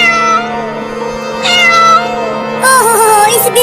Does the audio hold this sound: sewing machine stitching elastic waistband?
no